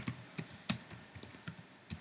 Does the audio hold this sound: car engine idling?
no